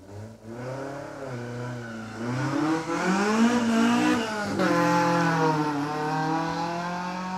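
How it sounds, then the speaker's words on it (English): A Toyota Celica race car pushes hard up a hillclimb course, its engine note rising loudly and climbing through the gears with a brief dip at a shift before revving on strongly, close and sustained. "Jason Sims Toyota Celica is now pushing hard up"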